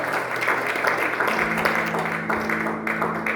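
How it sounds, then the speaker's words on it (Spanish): A church congregation applauds in a steady, dense wash of clapping that continues throughout, with a voice speaking over it. "¿Alguien puede dar un aplauso fuerte a nuestro Dios?"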